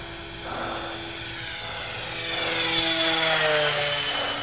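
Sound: Nitroplanes 800mm Corsair RC model plane flying

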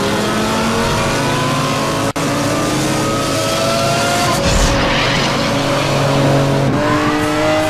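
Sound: Lamborghini Countach racing in video game NFS Hot Pursuit

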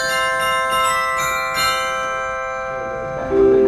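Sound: vibraphone stop on a theatre organ

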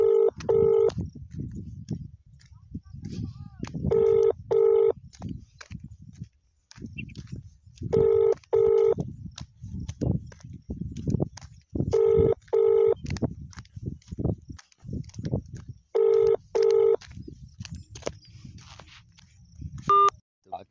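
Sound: phone call dialing tones

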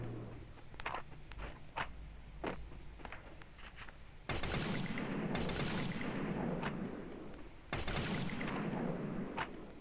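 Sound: gunfire in a shooting video game

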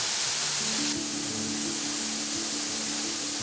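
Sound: waterfall flowing in a forest

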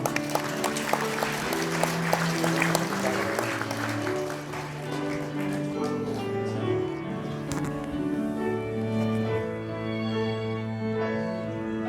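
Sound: wedding guests applauding

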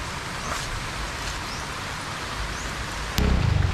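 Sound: rain falling

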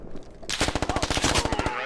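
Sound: gunfire in a military simulation video game

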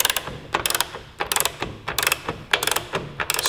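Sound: torque wrench ratcheting on motorcycle rear shock bolts

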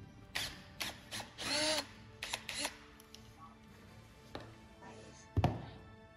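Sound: unscrewing a 10 mm bolt on a QS Motor hub

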